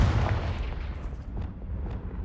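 Confringo blast spell exploding in Hogwarts Legacy: a heavy, booming impact at the start, followed by a rumbling tail with a couple of fainter popping echoes.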